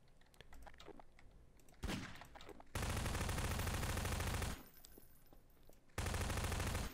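Gunfire in the video game Prop Hunt: long loud bursts of rapid automatic shots broken by short quieter gaps with scattered clicks, close and dense.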